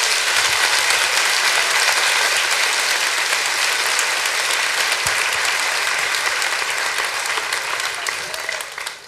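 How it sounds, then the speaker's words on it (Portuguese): A church congregation claps in a loud, sustained wash of applause, steady for several seconds and tapering off at the end. "Aplauda esta verdade."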